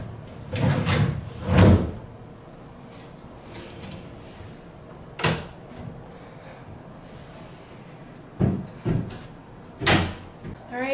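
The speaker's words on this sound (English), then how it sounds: "You also get to pull out drawers right here." Dorm wardrobe drawers are pulled out and pushed in with several sharp wooden knocks and slides in a small room, scattered across the stretch amid faint handling noise and breathy background.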